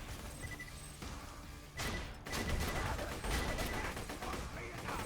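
Dense, chaotic gunfire and impact bursts fill a Borderlands 2 firefight, with a loud crash partway through and continuous rapid shots under faint talk.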